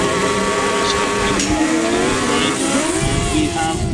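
Several grasstrack racing sidecar engines roar loudly together, their pitches rising and falling as they rev and accelerate around the track, a dense continuous drone.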